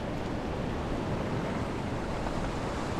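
Waves wash in steadily over shallow fishing flats, a constant, fairly faint broadband hiss and surge with some wind on the microphone and no talking.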